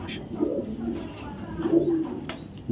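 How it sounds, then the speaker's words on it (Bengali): A top-quality black diamond black racer pigeon held in the hand gives two low, throaty coos, one early and one longer near the end, close and clear over faint background noise. "দেখলে দেখার মতো একটা কবুতর।"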